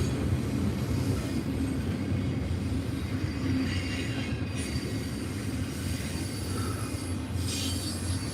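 A train riding the rails, a loud continuous rumble of wheels on track with rhythmic clatter and a few squealing metallic tones, heard from close by.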